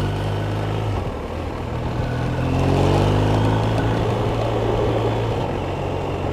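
BMW R1250RS motorcycle engine droning steadily while riding, with a low, even hum that rises slightly in pitch as the bike accelerates, heavy wind rush laid over it and no talking.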